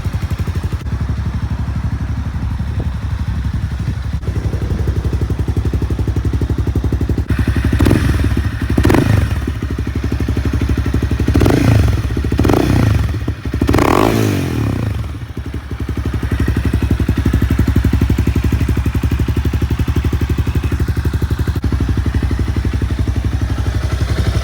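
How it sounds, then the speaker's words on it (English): Honda CBR 300R motorcycle engine running steadily at idle for the whole span, with a few throttle blips and revs around the middle, close and loud with some clatter, no talk. "I do that video just to show that the bike does start and run"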